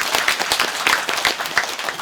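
Audience applause breaks out for a Buddhist dharma talk in a mountain temple setting, a dense, steady patter of many hands clapping close by for about two seconds with no talk over it.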